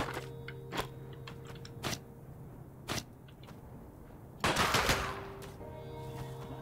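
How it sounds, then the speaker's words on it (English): Volley gun in the pixel-art Western roguelite Colt Canyon firing 3-round bursts, several sharp crack clusters spaced about a second apart, then a louder, denser burst, over a steady low game-music hum. "It's a 3-round burst gun."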